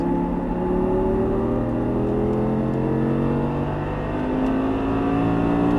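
An Audi R8 accelerates on a race track, its engine note climbing in steady rising sweeps that sound close and loud and run unbroken, with no voices over it.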